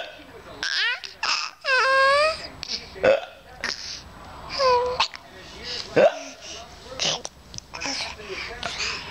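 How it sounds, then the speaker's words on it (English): A young child hiccuping and giggling, with short breathy hiccups and squeals scattered among playful vocal sounds and laughter. "Okay, hiccups. Hiccup."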